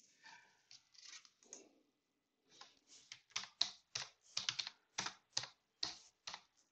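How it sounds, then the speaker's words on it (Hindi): Someone types a name on a computer keyboard: soft, quiet key clicks come in a short burst, pause, then return in a steady run of separate taps, close by with no talk. "First of all let me type my name again."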